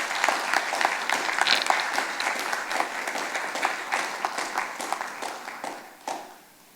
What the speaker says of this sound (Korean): 나오실 때 우리 축복의 박수 부탁하겠습니다